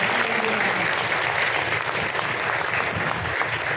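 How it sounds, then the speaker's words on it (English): A steady round of applause from the audience at a junior high moving-up ceremony at St. Theodore School, broad even clapping from many hands that continues without a break, then cuts off abruptly. "Let's give a round of applause"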